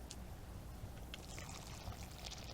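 Water poured from a pitcher onto seedling transplants, a faint, steady splashing trickle that runs unbroken throughout.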